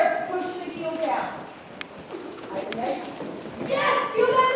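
Horse hooves clip-clopping during a jumping riding lesson, a steady walking rhythm heard close, while an instructor talks through it.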